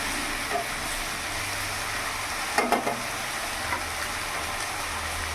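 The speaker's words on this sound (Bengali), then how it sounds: "আর একবার ভালো করে নাড়াচাড়া করে নেব।" Soaked raw chickpeas sizzle in a pan of hot oil for a vegetarian potato and papaya curry, with a steady dense frying hiss and a brief clatter of stirring midway, close and constant.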